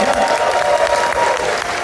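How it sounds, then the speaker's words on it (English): Large convention audience at the ConFuzzled 2024 closing ceremony clapping and cheering, a dense, loud, continuous wash of applause filling the hall without a break. "huge round of applause and great cheer for Branston"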